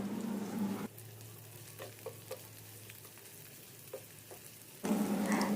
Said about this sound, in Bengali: কাঁচামরিচ এবং পেঁয়াজটাকে 1 মিনিটের মতো ভেজে নিয়ে